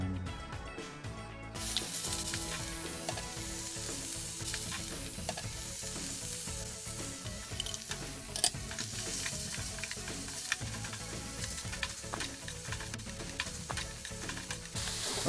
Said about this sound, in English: Okay, so we're stir frying this.